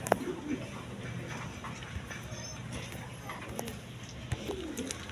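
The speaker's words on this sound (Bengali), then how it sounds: "এক পেয়ার বোম্বাই কবুতর আছে" Bombay pigeons, an Indian pair kept for sale, coo in low repeated phrases amid steady background noise, with a few brief sharper sounds and a faint murmur of voices.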